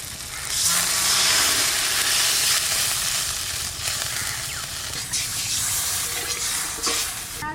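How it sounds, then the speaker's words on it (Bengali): Water poured onto fried spice paste for a whole pomfret rosa curry sets off a loud, steady sizzle and hiss that swells early and holds throughout, with occasional stirring scrapes and no talking. "মশলাটা ভাজা ভাজা হয়ে গেছে, এবার জল দিয়ে দেবো।"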